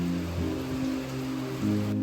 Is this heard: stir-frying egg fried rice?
no